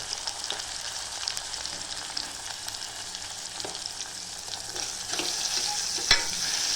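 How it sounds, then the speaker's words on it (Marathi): Tomatoes frying in hot oil with red chili powder, turmeric and salt, a steady bright sizzle with occasional stirring scrapes and a sharp utensil knock near the end, close and continuous with no talking. "आता टमाटर पण चांगल्या तेलामध्ये फ्राय करून घ्यायचं."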